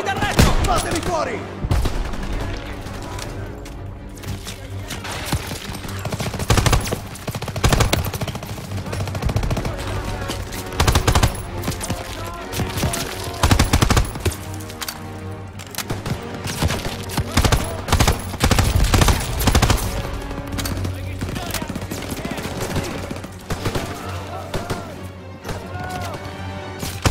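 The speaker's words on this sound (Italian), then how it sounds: "Mitragliatrice al secondo piano!" Machine-gun fire from the World War II shooter Call of Duty WWII rattles in dense, loud bursts, mixed with crashes and impacts as soldiers shout over the continuous battle din.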